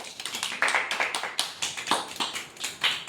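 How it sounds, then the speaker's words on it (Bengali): A small group claps for a cake cutting at a home celebration, with bursts of uneven hand claps rising and fading in quick succession across a few seconds, close by and moderately loud. "হাততালি দে"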